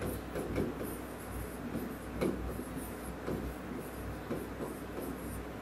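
Hand drawing of a wait-for graph for deadlock detection: a steady pen scratching and tapping across paper, close and continuous with small irregular strokes, with no talk.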